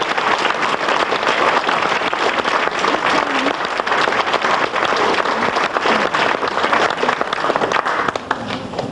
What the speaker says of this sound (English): So, nice round of applause for them.